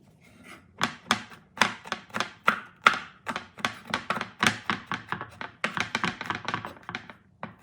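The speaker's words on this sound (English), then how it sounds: "We're going to crush the garlic and chop it up." A knife chops crushed garlic on a cutting board in a quick, steady run of close, sharp taps, roughly three or four per second, alone and fairly loud.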